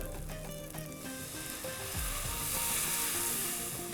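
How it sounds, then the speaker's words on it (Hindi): Masala sizzling in hot oil in a pan while frying the base gravy for matar paneer, a continuous close crackle and hiss that swells slightly toward the end, with no talk. "अब जब मसाला भुन गया है"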